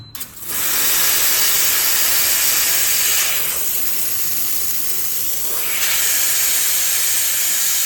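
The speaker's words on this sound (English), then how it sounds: "So let's check out the steam." Steam bursts from the wand of a Bellezza Bellona espresso machine with a boiler at 130 degrees, a loud, close, continuous hiss that starts sharply and wavers slightly over several seconds.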